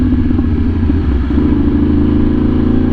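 A custom 2022 Yamaha R1M sportbike with a pops-and-bangs tune, its engine held at a loud, steady, rumbling high idle with a throbbing, harmonic-rich tone and slight modulation, close by and alone with no talk.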